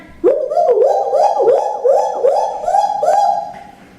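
A person mimics a monkey with a rapid chain of rising, hooting whoops, about seven quick pulses in a loud, close, continuous burst.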